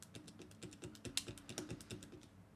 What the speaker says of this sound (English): I'm clicking a pen aggressively if you're wondering what the noise is